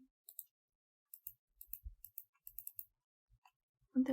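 Sharp, dry mouse clicks from editing in Photoshop, a dozen or so quiet taps in small irregular clusters with pauses between, followed by a brief louder rustle at the end.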